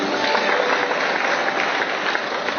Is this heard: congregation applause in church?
yes